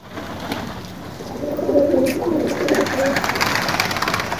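Pigeons flying low outdoors, a soft fluttering and cooing bird presence amid a steady broad outdoor hiss, with faint distant voices.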